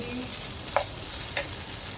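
Food being stir-fried and roasted in ghee in a frying pan gives a steady, loud sizzle throughout, with two faint clicks of a spoon against the pan.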